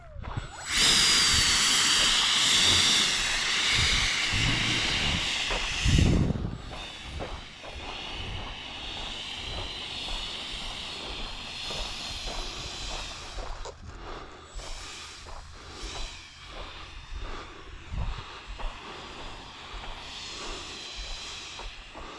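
A Jet 3 model jet aircraft, underpowered, roars in a loud steady turbine whine and hiss during a take-off run, then drops off sharply to a quieter, rougher rumble with scattered knocks.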